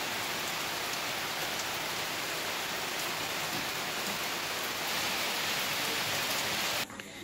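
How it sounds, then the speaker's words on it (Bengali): Heavy rain falling outside at a jungle resort in Simlipal, a dense, steady roar of downpour that stays loud and constant throughout, with no voices. "বাইরে খুব বৃষ্টি হচ্ছে"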